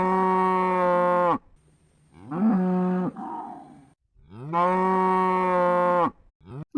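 A cow moos loudly and close, two long drawn-out calls with a shorter, rougher low moo between them, with no other sounds around.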